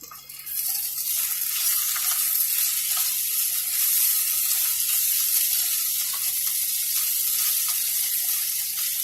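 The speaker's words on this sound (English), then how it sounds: "you just put it in a pan and cook it the way you want to cook it" Shredded gluten-free vegan chicken fries in a pan with a steady, bright sizzle, close and continuous, alone without talk.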